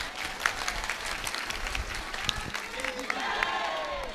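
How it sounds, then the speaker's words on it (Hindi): Listeners at a religious discourse clap together in a moderately quiet, continuous patter, with scattered voices in the crowd. "अब ताली बजाओ।"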